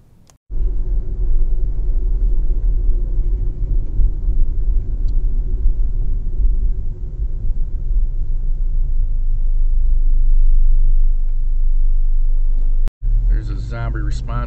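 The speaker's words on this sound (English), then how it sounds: "We're just gonna do a little bit of driving here" Steady low engine rumble and road noise from inside a moving car, loud and continuous for about twelve seconds, with a brief cutout near the end.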